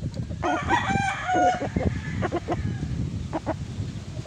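An 8-month-old NUDC Watamu gamefowl stag crows once, loud and close, then gives a few softer clucks and farmyard rustles.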